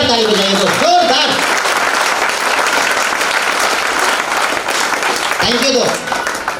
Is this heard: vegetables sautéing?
no